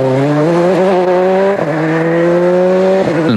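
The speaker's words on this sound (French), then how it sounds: "La seule voiture capable de leur résister, la voici. C'est la Ford Focus de Marco Martin et du Belge François Duval" A Ford Focus rally car at Rallye Deutschland 2003 races past with a loud, close, high-revving engine that climbs through gears, with brief dips and shifts as it accelerates.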